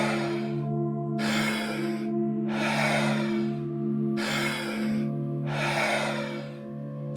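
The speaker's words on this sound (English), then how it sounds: "Exhale through the mouth." Slow, airy breaths during a calm breathing exercise, with five soft whooshing pulses in a steady rhythm, heard close over a sustained low droning tone.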